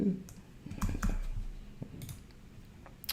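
A password being entered on a computer keyboard during a Mac login, a short run of light clicking keystrokes at close range, quiet and alone.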